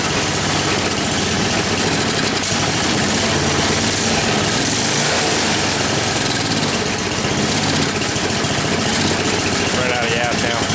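A snowblower's small gasoline engine runs continuously, a loud, dense, close drone that holds steady through the whole stretch as it burns toward empty.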